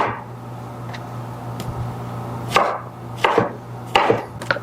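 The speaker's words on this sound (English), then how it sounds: "I'll cut these in half, and then slice them." A knife cuts fruit in half and then slices it on a board for a Korean fruit bowl, giving a few sharp, close chops spaced unevenly.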